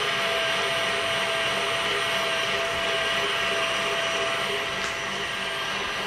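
A stand mixer whipping cream for a bourbon cream topping runs at a raised speed, giving a steady, loud, continuous whir that holds evenly throughout with no talk over it.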